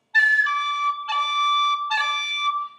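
A tin whistle plays a D with all six fingers down, ornamented by cuts: three sustained, breathy notes with a short attack blip at the start of each, played alone and close.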